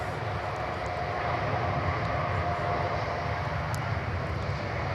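A Boeing 787 Dreamliner airliner on an Amsterdam-bound flight roars steadily and loudly at a DFW runway. The broad engine rumble holds without a break for the whole stretch.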